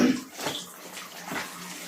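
A cat plays in laundry water during hand washing, making irregular splashes and sloshes at close range with a steady watery wash throughout and no talking.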